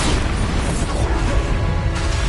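Bombarda spell explosion in Hogwarts Legacy, a dense, loud booming blast that fills the whole moment with heavy low rumble, amid rapid spellcasting combat.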